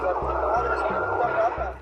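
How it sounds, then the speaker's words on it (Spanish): A siren wails from a black pick-up truck on the road, a steady, wavering tone heard loud and close for a short stretch, with a voice faintly underneath. "Tenía una sirena activada."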